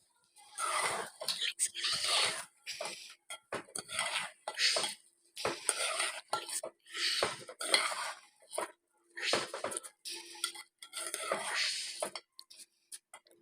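A spoon stirs rice and peas in a metal cooking pot for matar pulao, giving repeated scraping and clattering strokes in a steady rhythm, close and fairly loud, with brief pauses between bursts.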